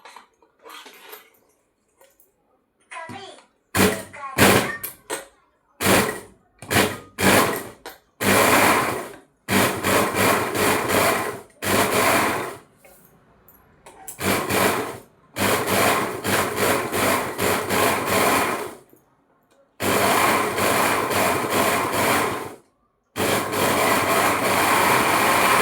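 A home sewing machine stitches soft fabric for a baby cap in short bursts of rapid whirring, separated by quiet pauses, then in longer runs toward the end, all close by and with no talk.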